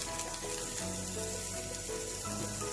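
Chopped tomatoes sautéing in a pan with roasted coconut, a steady soft sizzle running evenly and close throughout, with no voices.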